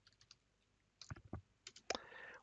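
Keys clicking on a computer keyboard while a command is typed during an Arch Linux installation: scattered soft taps, then a few sharper bursts of keystrokes, close and fairly quiet.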